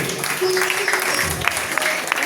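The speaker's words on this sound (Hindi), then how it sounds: "एक बार जोरदार ताली बजाइए।" An audience at a children's cultural program at a Gayatri Shaktipeeth temple hall in Lucknow claps in a dense, continuous wash of applause with a few sharper claps standing out, heard alongside talking.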